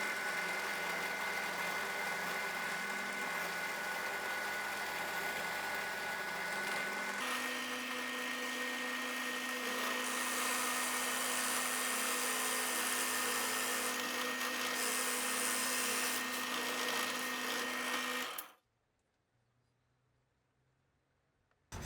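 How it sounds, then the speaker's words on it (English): A power tool cuts threaded rod down to 15 centimetres for homemade bench dog clamps, a loud, steady mechanical whine that shifts pitch partway through before cutting off to near silence. "Now I'm just cutting the threaded rod to the correct size, which in my case is 15 centimeters."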